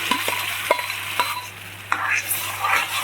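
Onion paste sizzles in hot oil for sev usal while a spoon stirs it. The frying hiss is steady and close, and scraping strokes against the pan come in a loose rhythm.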